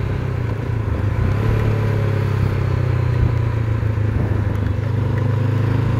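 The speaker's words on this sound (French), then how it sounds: "Là on entend bien le moteur" A motorcycle engine runs loud and close with a throbbing low rumble that swells briefly as it revs, steady throughout.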